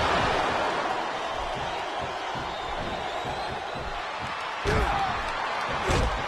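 Capacity arena crowd in the WWE 2K24 wrestling game, Brock Lesnar versus Roman Reigns, a steady roaring wash of voices with brief louder surges and thumps near the end.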